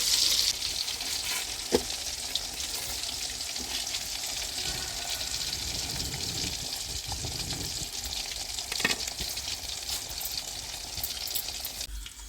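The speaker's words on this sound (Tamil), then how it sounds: "இதே போல் எல்லா மீனையும் பொரிச்சு எடுத்துக்கலாம்." Jilebi fish frying in hot oil in a village-style kitchen, a dense, steady crackling sizzle that runs unbroken throughout, close and moderately loud, with a few faint clinks and no voices.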